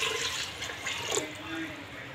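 Water pours steadily into a pot of mung dal khichdi as a continuous rushing splash, with a voice faintly underneath.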